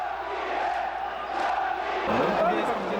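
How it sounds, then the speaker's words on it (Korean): Baseball fans roaring in the stands during a rain delay at Masan Stadium, a loud continuous crowd chant with rising shouts and cheering voices layered over steady rain-soaked ambience. "경기 재개를 원하는 팬들의 함성은 쉼없이 이어졌다"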